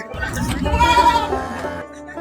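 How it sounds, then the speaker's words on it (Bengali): A cow bellows in a long, drawn-out call amid the crowd at a busy cattle market, the Sultani haat in Keraniganj near Dhaka, close and loud, with people talking around it. "এই যে পাগলা গরু চেঁচে গেছে চেঁচে গেছে।"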